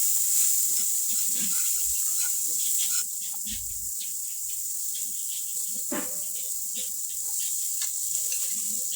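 Steamed green peas sizzle and hiss in hot ghee in a wok, a steady close frying crackle with stirring scrapes, briefly louder at the start.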